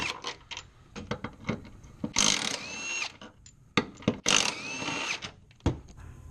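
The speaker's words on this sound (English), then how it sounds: "On each side I'm going to remove these three subframe 16 mil bolts." A ratchet wrench and socket work 16 mm subframe bolts loose under a car, giving quick bursts of clicking with metallic squeaks and a couple of longer grinding turns, close and alone.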